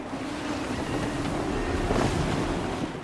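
Sailing ship at sea in the Xbox 360 game Assassin's Creed 3, heard as a steady wash of waves and wind around the hull, loud and continuous, with no talking.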